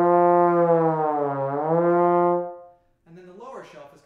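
A trombone sustains a single higher-register note for about two and a half seconds, a steady brassy tone with a slight swell and waver before it fades out. A brief snatch of talk follows.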